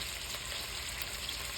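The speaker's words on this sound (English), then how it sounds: "letting this sizzle some more in its own oil" Sausage sizzling in its own oil in a pan: a dense, steady crackling fry heard close up for a brief moment, alone with no voices.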